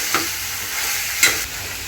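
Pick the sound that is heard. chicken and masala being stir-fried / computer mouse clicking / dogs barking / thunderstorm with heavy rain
chicken and masala being stir-fried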